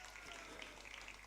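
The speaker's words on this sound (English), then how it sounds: "a big round of applause for the Sri Mayapur International School players" Applause for players from a school's performance, a dense steady wash of clapping from a crowd, brief and continuous.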